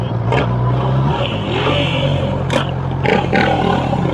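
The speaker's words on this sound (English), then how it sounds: "Urban exploring on a motorcycle." Motorcycle engine hum while riding through a sandy urban area with two people aboard, a steady low drone running continuously and close, with a few brief higher bursts over it.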